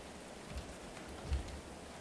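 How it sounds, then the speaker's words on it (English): Rain falls in a medieval settlement in Going Medieval, a faint, steady patter of drops with light rustling and a couple of soft low thumps, no voices. "Outside in the rain."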